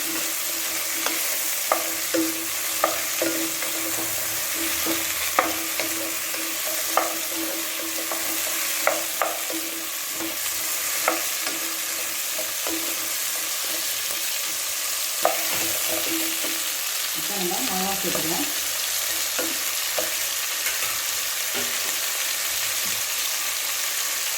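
Steady sizzling of onions and tomatoes frying in a pan for Idi Sambar, with repeated scraping clicks of a utensil stirring throughout.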